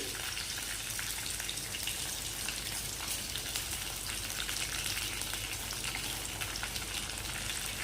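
Mustard seeds, curry leaves and dried chilli frying together in hot oil for a South Indian-style tempering, giving a steady, dense, close sizzle and crackle that holds evenly throughout with no talking.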